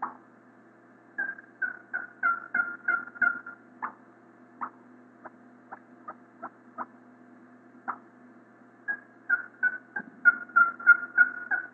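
A hand-operated turkey call imitating the cutting of an excited hen turkey at a calling contest, with rapid clucking bursts, a slower run of sharp single notes, then another fast flurry, clear and close with no talk.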